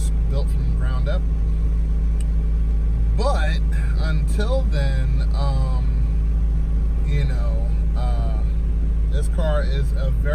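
Car engine running while driving, a daily-driver car with air conditioning and power windows, a steady low rumble throughout with someone talking over it.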